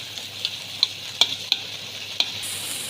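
Chicken sizzles in a karahi over high flame, a steady frying hiss broken by several sharp clinks and scrapes of a spatula stirring, close and fairly loud with no voices.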